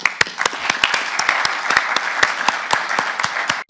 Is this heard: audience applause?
yes